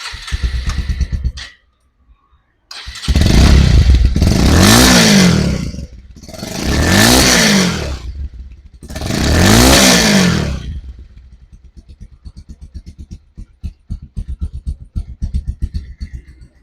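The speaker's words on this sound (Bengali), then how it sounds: "এই নতুন বাইকের সাউন্ড শোনার কোনো প্রয়োজন ছিল না, তারপরেও শোনাইলাম।" A new motorcycle with about 2,800 km on its digital meter runs close and loud, idling briefly before cutting out, then revving hard three times in long, swelling pulls and settling into a ticking idle.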